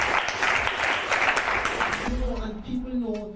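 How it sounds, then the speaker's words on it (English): A crowd at a Reggae Month concert event applauds for about two seconds, a brief wash of claps under a speaking voice, before the clapping fades and talk carries on alone. "round of applause"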